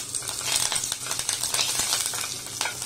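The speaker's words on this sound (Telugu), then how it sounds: "తాలింపుకి అన్ని వేసి ఫ్రై చేసుకోవాలి. దీంట్లోనే రెడ్ మిర్చి అండ్ కర్రీ లీవ్స్ కూడా వేసేసుకోవాలి." Red chillies and curry leaves fry in hot oil as a tempering for tomato chutney, a dense, steady crackling sizzle with scattered sharp pops and occasional utensil scrapes, close and alone.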